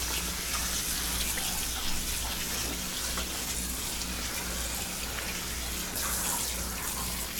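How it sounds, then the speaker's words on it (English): Cold water sprayed from a kitchen tap over cooked lasagna noodles, a continuous hissing rush of water that holds steady throughout without a break. "we're going to take cold water and just spray it over the entire thing."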